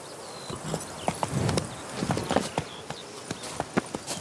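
A draft horse in the fantasy role-playing game The Witcher 3 clip-clops at a steady walking pace, hooves striking firm ground close by over faint ambient noise, with no talk.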